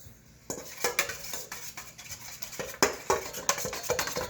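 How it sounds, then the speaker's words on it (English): An egg mixed with a spoon in a bowl while making a homemade coffee cake, with quick irregular clinks and scrapes of the spoon against the bowl, fairly close and unaccompanied by speech. "Grab my spoon, and I'm going to mix this together"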